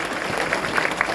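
A crowd at a university graduation ceremony claps for the school director, a short burst of dense, loud applause filling the moment.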